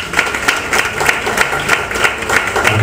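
Audience at a Cuban music and poetry tribute applauds, moderately loud clapping with a loose, fairly regular rhythm of distinct claps.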